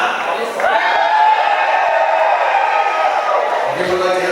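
A concert crowd at a live show in Moscow cheers and whoops loudly for several seconds, a dense sustained roar of many voices filling the room.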